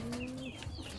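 Red King pigeons on a small pigeon and hen farm give a soft, steady coo up close, with a few faint higher chirps over it.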